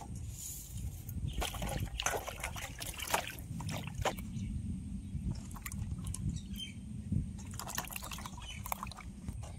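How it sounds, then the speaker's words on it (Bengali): Raw green mangoes are washed in water by hand, with irregular splashing, sloshing and rubbing sounds and a few sharper knocks, close and continuous with no one talking. "আমগুলোকে প্রথমে ধুয়ে নেব।"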